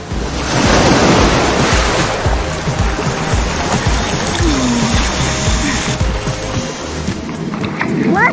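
Warm sea surf churns and rumbles continuously with heavy wind buffeting the microphone, waves washing in loud and close around someone treading water, with faint voices mixed in.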